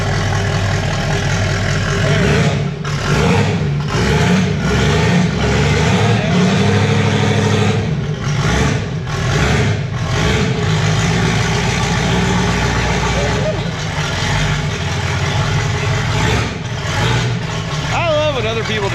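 A car engine idles with a deep rumble, then revs and pulls away, sustained and loud throughout, while people talk over it close by.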